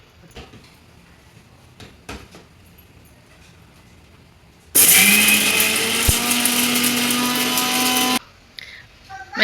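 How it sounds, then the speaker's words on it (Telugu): Mixer grinder blending lentils, green chillies, garlic, salt and a little oil into a chutney base, a loud whirring roar that starts suddenly, runs steadily for about three and a half seconds, then cuts off, with quiet clatter around it. "వేసి మిక్సీ పట్టుకోవాలి"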